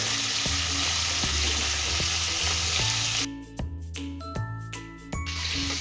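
Food fries in a pan with a loud, steady sizzle. Rhythmic metallic clinks of a utensil against the pan repeat throughout, and the sizzle softens partway as the stirring continues. No one speaks.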